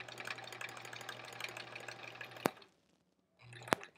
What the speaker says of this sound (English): I'm not feeling like I'm sewing straight tonight either